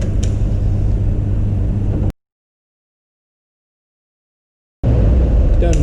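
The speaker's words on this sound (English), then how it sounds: "find the truck in the background. I think it's the garbage truck." A garbage truck rumbles steadily in the background outdoors, a broad low drone that cuts out to silence midway and then returns at the same level.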